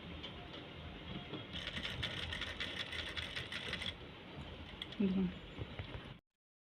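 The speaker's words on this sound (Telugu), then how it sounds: "ఈ రౌండ్ ఎలా ఉందో దాని మీద నుంచి కుట్టుకుంటూ రావాలి నిదానంగా" A sewing machine stitches cutwork, running in a fast, even mechanical rattle for a couple of seconds mid-clip, then stopping as a voice speaks briefly before silence.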